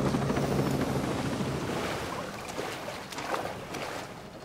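A helicopter in the video game Ghost Recon Breakpoint comes down onto water, its rotor roar loud and close at first, then easing slightly among splashy, rushing noise as it settles.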